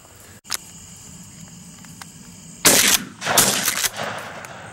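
Shotguns fire during a dove hunt: a couple of faint far pops early on, then a loud close blast followed by several sharp shots in quick succession, over quiet outdoor background.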